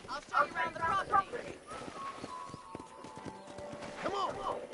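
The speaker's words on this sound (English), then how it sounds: "I picked out a fine horse for you." Horse hooves clop on the ground in the Red Dead Redemption video game, a quick run of muffled steps at moderate distance while voices talk over them and a horse gives a brief whinny.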